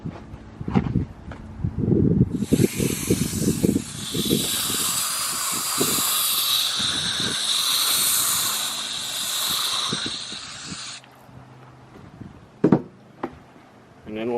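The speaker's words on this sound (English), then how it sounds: "I'll spray a little water on top, make sure they've got enough moisture." A spray nozzle hisses steadily for several seconds as water mists over freshly seeded cole crop trays, close and loud, with clattering handling noises before and after and a voice speaking nearby.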